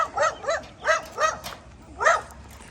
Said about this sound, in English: We got a dog that's barking.